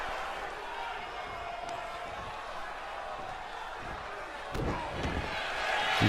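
Wrestling arena crowd in WWE 2K22 keeps up a steady, dense roar throughout, swelling a little louder near the end, with a sharp slam-like impact partway through and a commentator talking over it.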